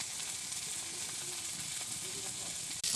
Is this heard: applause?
no